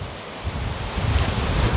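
Blustery wind at Loch Einich in the Scottish Highlands, around 500 meters up, buffets the microphone in rising, roaring gusts, with a low rumbling rush that swells louder toward the end.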